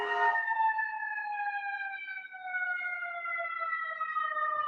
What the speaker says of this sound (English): It's the siren.